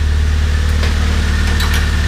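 A Mazda Protege engine idles just after a rear motor mount replacement, a steady low hum with a constant deep rumble, close and even throughout with no speech.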